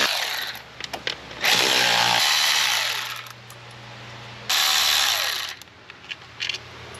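Power tool spinning out 8mm bolts on a Ford Bronco with a 2.7/3.0L EcoBoost engine, two loud sustained whirring bursts separated by quieter clicks and handling noise, close by with no talking.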